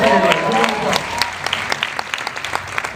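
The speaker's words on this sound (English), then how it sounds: "Give a round of applause." Audience applause at a live talk starts as a thick burst of clapping and thins out into scattered individual claps, with a voice speaking over the first moments.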